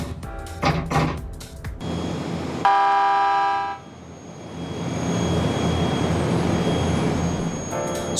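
Iyo Railway's newly designed 7000 series train begins a test run on factory rails, with a loud horn-like tonal blast followed by a rising, sustained rumble and hum of the train starting to move.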